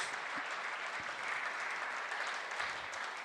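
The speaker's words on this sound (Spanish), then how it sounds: "Fuertes aplausos al Señor, mi hermano." A church congregation applauds during a Spanish-language sermon, sustained dense clapping holding steady and fairly loud with a few faint voices underneath.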